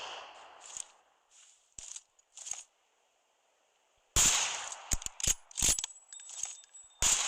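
Gunshots in the video game PUBG Mobile, with a few sharp cracks early on, then a loud, dense cluster of shots after a quiet gap.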